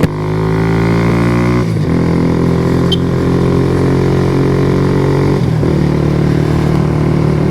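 Kawasaki Z125 Pro motorcycle engine bogging after a missed gear: a loud, close droning engine whose revs sag and shift twice, with harmonic pitch dropping and holding, no talking.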